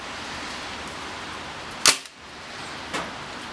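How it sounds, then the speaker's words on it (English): ZMZ Tyrex PPA-K-01 BB machine gun firing in semi-auto mode, two sharp cracking shots about a second apart, the first loud and close, the second softer, over a steady background hiss. "we're in semi-auto mode. We're going to put 5 rounds through this"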